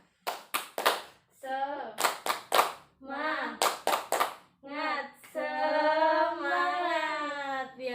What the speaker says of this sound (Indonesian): alangkah baiknya kita melakukan tepuk semangat terlebih dahulu